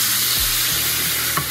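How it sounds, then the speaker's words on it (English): Hot syrup poured over a tray of baklava, giving a steady, close broadband sizzle that runs unbroken throughout, with a few faint low thumps and clinks beneath it and no talk. "we're gonna pour this syrup all over the top, and you're gonna start to see it sizzle all throughout here"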